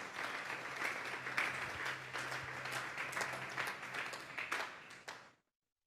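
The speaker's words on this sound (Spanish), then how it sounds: "Dele un fuerte aplauso pues al Señor." A church congregation claps together at a Sunday service, a dense, steady wash of applause that swells and holds for several seconds before stopping abruptly.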